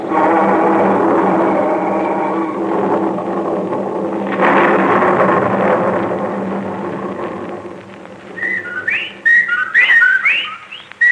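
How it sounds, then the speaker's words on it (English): Whippoorwill calls from a 1945 radio horror drama arrive as a cluster of quick, rising whistled phrases near the end. Before them comes a long stretch of dense, droning noise. "The whippoorwills"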